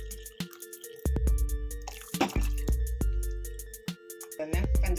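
Remaining milk poured into a pot of palada pradhaman payasam, a Kerala rice-flake milk pudding, giving liquid splashes and drips with clinks of a vessel, moderately loud and close, with no talk.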